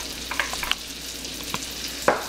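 Steady crackling sizzle of onions and garlic frying in butter in a hot pan, with a few sharper pops and stirring clinks scattered through, no voices.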